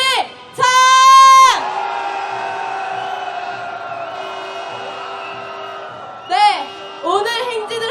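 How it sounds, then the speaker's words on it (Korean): Crowd of marchers at a Seoul candlelight protest rally letting out a loud collective shout to begin the street march, a big roar at first, then a lingering tone and further bursts of cheering. "행진 시작하는 함성 한번 질러보도록 하겠습니다"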